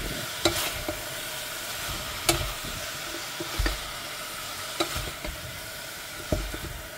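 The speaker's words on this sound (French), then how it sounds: "Je le mélange." Vegetables fry with a soft, steady sizzle while a utensil knocks and scrapes the pan at intervals, about half a dozen sharp taps spread across the stretch; quiet and close, no speech.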